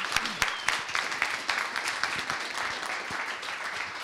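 An audience at a business training session applauds a speaker with brisk clapping, several individual claps standing out sharply near the front, and the sound holds steady throughout.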